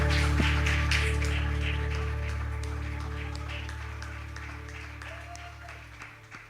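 A church congregation at an Easter service applauds: a broad, pattering wave of clapping over a sustained low drone, gradually thinning and fading toward the end.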